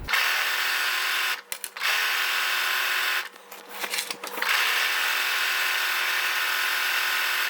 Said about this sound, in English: Okay, we're going to start top stitching.